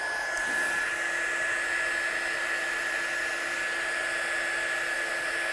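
A heat tool blows a steady, loud whirring hiss without pause while drying wet watercolour card, the tone even and constant throughout with no voices.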